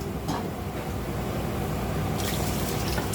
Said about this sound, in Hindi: अब इसमें चावल डालेंगे